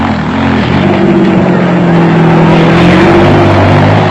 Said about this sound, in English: Creeping up through the special vehicle field almost unnoticed were John Lambert and Hendrik Fourie in the Digidor raceco.